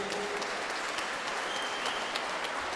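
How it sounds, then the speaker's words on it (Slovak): An audience at a women's fighting event at Way of Warrior 12 applauds steadily, a dense, even wash of clapping that holds at a constant level throughout. "obrovský potlesk pre obe dámy"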